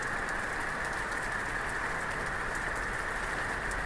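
Heavy rain from the first thunderstorm of 2025 in Calliope, Queensland, pours in a constant dense hiss, steady and close, with no voices over it.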